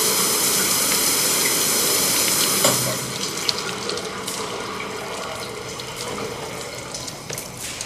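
A shower runs in a steady, loud hissing spray close by, easing to a slightly softer flow partway through and continuing with faint clinks, no voices present.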